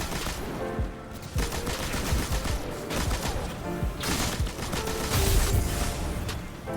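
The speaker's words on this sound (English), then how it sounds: "keep the machine gun out pretty much at all times" Machine gun fire in Destiny 2 rattles in a dense, continuous, loud burst from a Solar Titan build, with rapid shots and mechanical clatter carrying on without a break.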